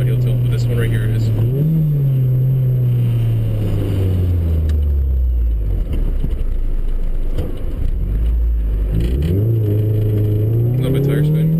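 Car engine revving hard through a run of gear shifts, pitch climbing and dropping sharply between changes, with a bit of tire spin, loud and continuous from start to end.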